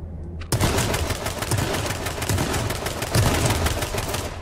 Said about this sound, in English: I just shot him twice with a shotty and he lived, bro.